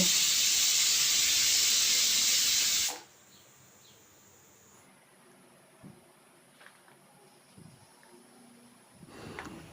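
A pressure cooker whistle lets off a loud, steady burst of hissing steam while young jackfruit cooks with salt, cutting off abruptly after about three seconds and leaving quiet kitchen sounds.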